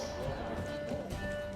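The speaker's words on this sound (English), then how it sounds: "But Roach just does his own thing a lot of times. Okay, that's fair. I mean, just a horse" A horse's hooves clip-clop in The Witcher 3, soft and fairly faint under game ambience, with a steady tone droning in the background.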